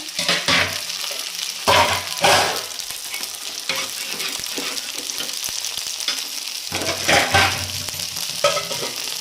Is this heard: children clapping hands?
no